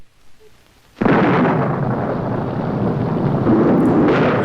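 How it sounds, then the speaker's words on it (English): Thunder and heavy rain from the 1955 horror film Bride of the Monster break in abruptly after a second of near silence, then hold as a loud, dense, continuous roar of downpour with rumbling thunder. "You know it's gonna be good when it starts with thunder and rain."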